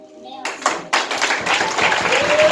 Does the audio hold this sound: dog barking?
no